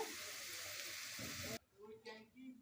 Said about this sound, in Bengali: ওই একই তেলে পটলগুলোকেও ভেজে নেব পটলগুলো আমার ভালোভাবে ভেজে নেওয়া হয়ে গেছে